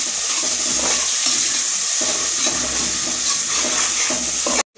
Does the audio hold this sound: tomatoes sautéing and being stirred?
yes